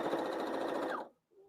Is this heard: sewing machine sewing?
yes